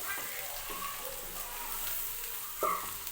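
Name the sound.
garlic frying in a pan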